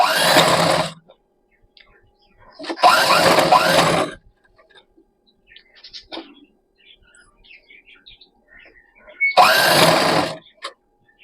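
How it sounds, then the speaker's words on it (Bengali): A sewing machine stitching a fabric seam, sounding as three loud, close mechanical bursts of about a second each, separated by near silence with faint handling noises. "এবার আমি সেলাইটা দিয়ে দেবো দেখো এই যে দুটো মিডিল বরাবর"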